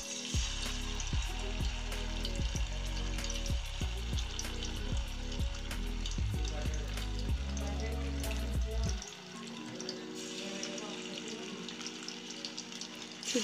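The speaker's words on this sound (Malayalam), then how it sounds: "ഓയിൽ നന്നായി ചൂടായതിന് ശേഷം നമുക്ക് ചിക്കൻ ഓരോന്നായി ഇതിലേക്ക് ഇട്ട് കൊടുക്കാം." Chicken pieces dropped one by one into hot oil in a large pan on high flame for a street-stall style fry, giving a loud, steady sizzling hiss broken by repeated sharp pops and splutters.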